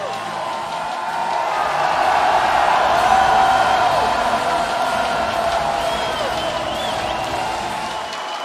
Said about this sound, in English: Down on the stage, you see everybody in the crowd standing up.